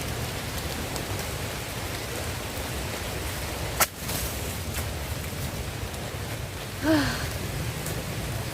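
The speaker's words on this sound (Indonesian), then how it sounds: "Untung saja hujannya tidak begitu besar." Steady light rain falls throughout, a continuous soft hiss of drops on surfaces with one brief sharp knock partway through; no one speaks.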